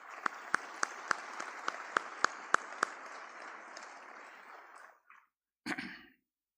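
At a graduation ceremony, an audience applauds the graduating class with a steady crowd clap and a few sharp, prominent individual claps near the microphone, fading out after about five seconds, then a short breathy sound.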